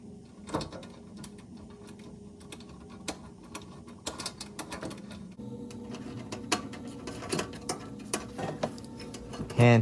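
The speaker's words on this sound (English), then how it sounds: "I'm using a Klein Connect pass-through ratchet set" Klein Connect pass-through ratchet tightening the mount of an HVAC blower motor fan: close, quiet clicking of the ratchet pawl in uneven bursts, growing busier toward the end with a final louder clatter.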